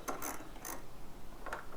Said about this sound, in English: take your 5mm Allen wrench and loosen up the slides that your brake pads float on